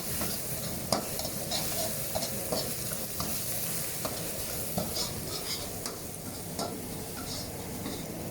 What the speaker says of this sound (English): You fry until this one turn to golden brown.